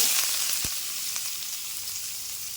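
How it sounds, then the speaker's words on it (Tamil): Onion frying in oil for egg rice makes a continuous close hiss and crackle, a steady sizzle with one sharp tap near the start and no voices. "எண்ணெய் ஊற்றிட்டு வெங்காயம் போட்டுக்கோங்க"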